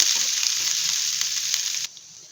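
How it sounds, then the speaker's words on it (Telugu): Coarsely pounded paste fries in ghee in a pan for chicken haleem, a loud, even sizzle that holds steady for about two seconds and then cuts off abruptly. "కొంచెం ఫ్రై అవుతుందండి దీన్ని పచ్చివాసన పోయేంత వరకు వేయితే సరిపోతుంది"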